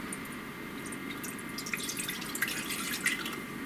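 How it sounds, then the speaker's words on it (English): One cup of water being poured into a small pot for potato ham soup, a close, continuous splashing trickle with brief dripping accents that grows slightly louder toward the end. "We're gonna pour in 1 cup of water"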